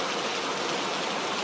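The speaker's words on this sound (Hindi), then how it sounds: "बाहर बहुत बारिश हो रही थी।" Heavy rain falls at night in a steady, even hiss of dense drops, constant and moderately loud with no break.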